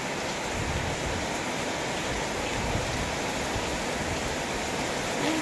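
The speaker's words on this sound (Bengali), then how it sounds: "জোরে বৃষ্টি নেমেছে" Heavy rain pours down steadily outside a house, a dense, even hiss that stays constant and loud throughout with no pauses.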